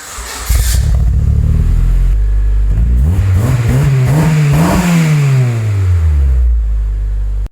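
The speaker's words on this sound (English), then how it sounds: "Don't want to have to listen to that awful exhaust note." A Honda K-swapped Subaru with an aftermarket WRX catback exhaust is revved hard, its loud engine note rising and falling through repeated throttle blips and sustained revs, close and dominant throughout.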